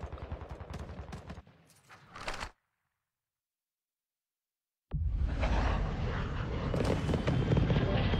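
Video game gunfire: dense bursts of rapid shots for about two and a half seconds, a stretch of silence, then a continuous loud barrage of firing to the end.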